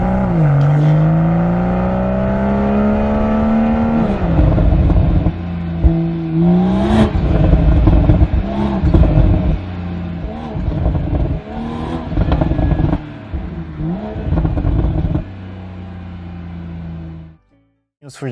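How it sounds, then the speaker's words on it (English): A BMW M340i petrol engine revving, rising and falling several times with a loud, close, throaty tone before cutting off near the end. "Now let's hear how this car sounds."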